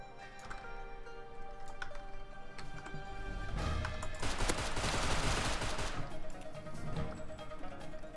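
Gunfire in the Rust survival video game, heard during a base raid. A few scattered shots come first, then a dense, loud burst of rapid fire that tails off.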